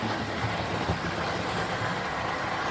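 A Hornby model train speeds through a station on a layout, giving a steady, continuous rolling rumble with a light whirr, fairly faint and unbroken throughout.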